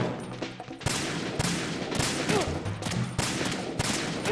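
Gunfire in the video game Metal Gear Solid 2: loud, close bursts of rapid shots, a steady fusillade broken by sharp single cracks, with game effects around them and no talk.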